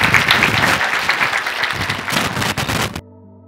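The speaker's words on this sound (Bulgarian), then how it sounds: "Аплодисменти за всички будни хора от бизнеса." A business networking meeting crowd applauds guests from other cities, brisk dense clapping that swells at first and then thins slightly before ending suddenly at about three seconds.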